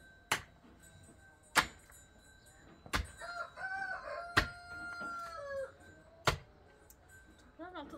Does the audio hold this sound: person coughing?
no